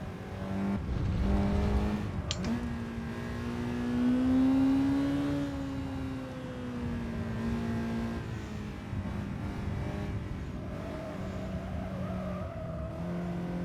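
A race car engine on a warm-up lap holds a steady, droning rev with a strong harmonic that rises slightly and then eases back, loud and continuous throughout.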